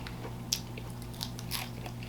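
Bites into crispy double-fried parmesan fries give a few sharp crunches close to the mic, a handful of quick snaps over a quiet low hum.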